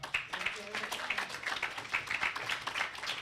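Audience applause at an author talk, a moderate, dense patter of clapping hands sustained for a few seconds, somewhat distant and even in level.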